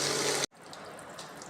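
Water gushing steadily from a borewell pump outlet, a loud broadband rush that cuts off abruptly, leaving a quieter trickle and background hiss.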